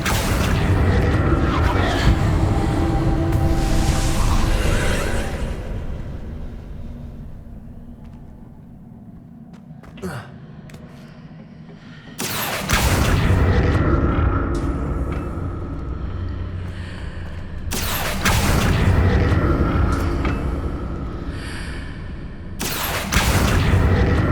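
Confringo blasting spells explode in Hogwarts Legacy as long, loud, rumbling booms, with several sudden heavy blasts separated by quieter stretches.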